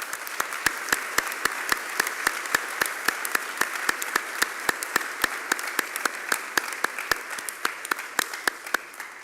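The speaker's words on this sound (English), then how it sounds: "Please join me in a round of applause for everybody." An audience applauds at the 2024 Westminster college convocation, steady clapping from many hands with sharp claps standing out in a regular beat, continuing for several seconds in a large hall.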